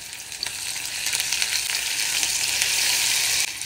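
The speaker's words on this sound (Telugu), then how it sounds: "అల్లం వెల్లుల్లి పేస్ట్, పచ్చిమిరపకాయ పేస్ట్, కరివేపాకు ఇట్లా కట్ చేసుకుని వేసుకోవాలి" Ginger-garlic paste, green chili paste and curry leaves fry in hot oil, a loud, close, continuous sizzle with bursts of crackle and spitting throughout.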